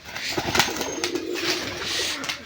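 A Giribaz pigeon coos close by in soft, repeated throaty phrases, with faint handling and rustling sounds around it.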